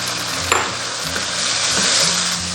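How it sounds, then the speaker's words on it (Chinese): Pig kidney stir-fried in a wok over high heat with cooking oil and a little lard, a loud close sizzle with scraping stir strokes across the short stretch. "接着下入猪腰炒。"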